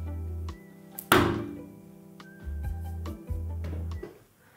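A Wacky Wally sticky toy is thrown against a window and lands with a single soft, close thud, with no voices and a faint steady hum underneath.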